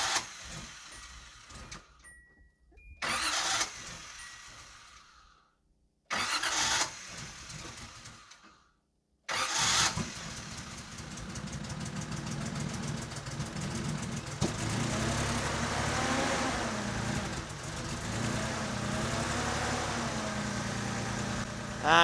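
A Nissan Z car engine, with suspect fuel injectors, cranks in a few short bursts with pauses, then catches and settles into a steady, continuous idle that runs on without talk.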